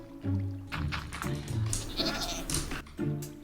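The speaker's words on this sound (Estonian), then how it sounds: "Kas ma kuulsin praegu kitsa häält?" Goat bleats sound in a One Block video game, several nasal, wavering cries in short bursts, with a few other game noises between them.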